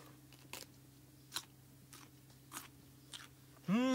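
Crunchy bites and chewing of a fresh, eco-farmed cucumber, with several crisp crunches spaced about a second apart, close and fairly faint, ending as a voice starts speaking.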